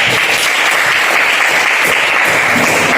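A classroom group claps together in steady, dense applause, loud and close, lasting the whole moment before stopping abruptly.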